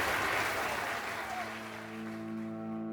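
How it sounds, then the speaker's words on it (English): Audience applause as a sound effect, a crowd at Columbia College roaring after an electrical demonstration: dense, loud clapping at first that thins and fades as sustained tonal music rises underneath. "the audience roars with applause."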